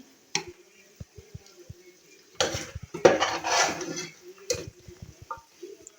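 Green masala black chickpeas are served from a pot with a metal spoon, giving faint scattered scrapes and clinks and a brief louder rattling scoop in the middle, close by.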